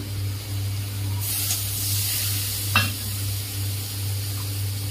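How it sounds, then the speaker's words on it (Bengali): Hot water is poured into a pan of sizzling kofta curry, and the steady frying hiss swells into a louder, brighter rush of steam for a few seconds, with a brief clink partway through, no voices. "একটু গরম জল দিয়ে দেবো, কারণ বড়া তো জলটা টেনে নেয়"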